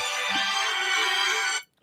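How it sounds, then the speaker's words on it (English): A phone ringtone plays a bright, sustained melodic tone for about a second and a half, clear and fairly loud, then cuts off abruptly into silence. "your fucking ringtone sounds so epic and shit"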